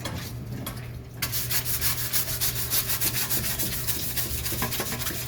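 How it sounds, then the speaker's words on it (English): Rhythmic scraping of sandpaper against the engine compartment part of a 1985 Mercedes 300CD, taking it down to bare metal; steady close strokes begin after a brief quieter opening and continue alone, with no voices. "still need to do some more sanding to get the rest of the areas down to bare metal"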